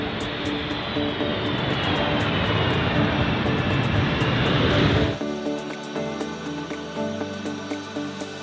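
A US Air Force airlift aircraft carrying Japanese military supplies for Ukraine roars loudly and steadily, then the roar drops abruptly to a lower, humming drone with a faint whine.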